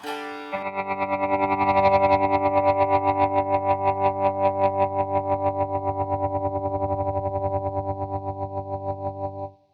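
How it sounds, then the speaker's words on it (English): A held guitar chord through a ramping tremolo pedal pulses in a tremolo that speeds up into rapid, even throbbing, then cuts off sharply; no talking. "It is a ramping trem sound, and I adore it."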